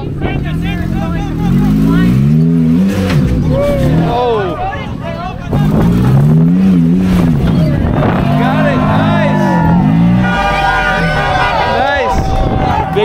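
A four-wheel off-road vehicle's engine revs hard on an off-road games course, rising and falling in repeated surging bursts, loud and close, with a crowd and voices talking over it.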